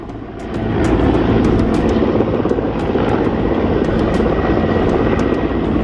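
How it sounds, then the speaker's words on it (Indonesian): A waterbombing helicopter flies over a forest and land fire in Rokan Hulu and Rokan Hilir, Riau. Its rotor and engine roar is loud, steady and continuous throughout, with no voices. "Helikopter waterbombing dikerahkan untuk memadamkan kebakaran hutan dan lahan di Kabupaten Rokan Hulu dan Rokan Hilir Riau."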